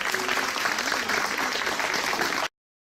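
Theatre audience applauding a film production team at a French cinema premiere, steady dense clapping for about two and a half seconds, then stopping abruptly.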